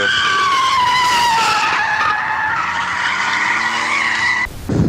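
A BMW drifts with loud, sustained tire skidding and squeal for several seconds, engine roar underneath, cutting off abruptly near the end.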